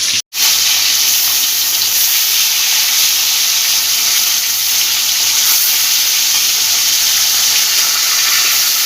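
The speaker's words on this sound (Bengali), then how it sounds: "মাছটা ভাজা হোক এক পিট" Aor fish (sperata) frying in a pan of hot oil, a steady loud broadband sizzle that holds evenly throughout, broken only by a brief dropout near the start.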